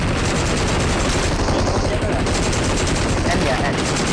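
PUBG Mobile gunfire, a loud, dense, continuous stream of rapid shots and bursts that fills the whole stretch with barely a pause.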